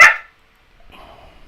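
A dog gives a single sharp, loud bark nearby indoors, followed by a faint short rustle after a pause.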